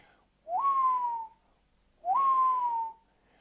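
A human voice imitates a wild bird call with two clear whistled notes, each sliding up and then holding a long, slowly falling tone, separated by a short pause.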